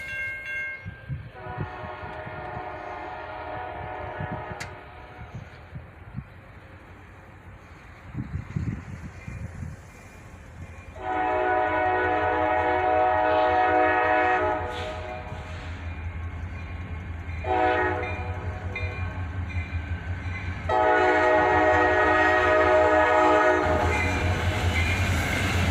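A CSX freight train led by EMD locomotives approaches and passes, with steady engine rumble and clattering wheels, and a loud horn sounding in long repeated blasts, alone without talk.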